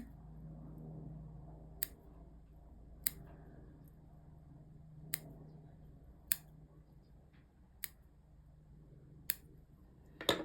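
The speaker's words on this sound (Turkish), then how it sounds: "İplerimi dip kısmından keselim." Scissors snip threads at the base of needle lace work, about eight sharp, close clicks spaced a second or two apart over a quiet background.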